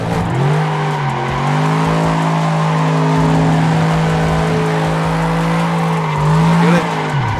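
Engine note of a car in a sim racing video game, a steady high drone that wavers and shifts as the car spins out, with a tire squeal near the end and no voices.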